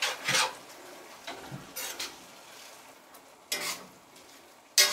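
Dandelion greens and henbit are stirred in a pan, giving brief scraping, rubbing strokes with soft sizzle between them, irregular and fairly close, with quiet gaps.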